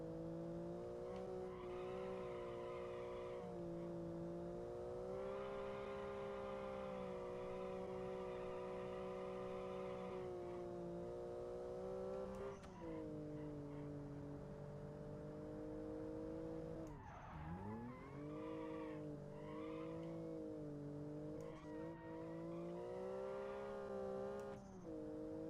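Car engine revving and shifting through a run of twisting turns, a steady strong harmonic drone rising and falling in pitch with gear changes and a sharp dip near the middle, loud and close with no talking.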